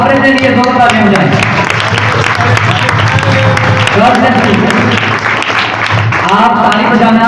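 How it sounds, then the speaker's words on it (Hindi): Church congregation applauding themselves, dense sustained clapping blended with music and voices, loud and continuous throughout. "आप अपने लिए दोनों ताली बजाएं।"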